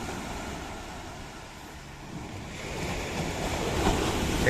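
Steady wash of sea waves rolling in on a Kerala fishing shore, a broad continuous surf roar that swells slightly louder toward the end, with some wind buffeting; no voices.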